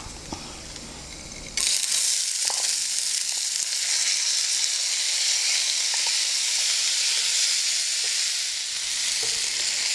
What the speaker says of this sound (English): let that sizzle for another 10 seconds or so. Now it's time for us to add the rice.